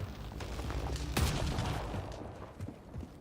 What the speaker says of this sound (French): Et les coups de feu!